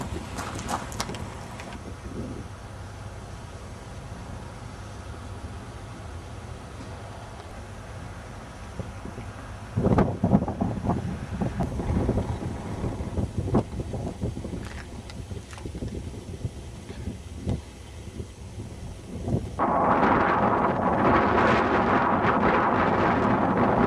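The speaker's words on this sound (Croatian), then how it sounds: "Ne toliko hladno koliko vjetar puše" Cold wind blows outdoors on a late-December day, a steady rushing roar buffeting the microphone that surges louder in gusty stretches.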